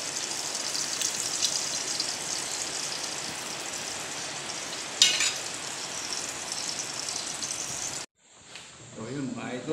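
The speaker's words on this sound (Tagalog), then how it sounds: "prito ako ng tuyo." Tuyo, a dried fish, fries in a pan in a provincial kitchen, giving a steady dense sizzle with one brief sharp crackle partway through. The sizzle stops abruptly near the end and faint sounds follow.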